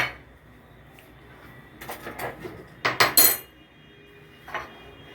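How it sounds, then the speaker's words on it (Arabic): Metal spoon clinks and scrapes against a bowl while mixing dry spices together, a few scattered knocks and a brief burst of rapid clatter in the middle, close and fairly quiet, no talking. "كل التوابل دي هقلبها في بعض."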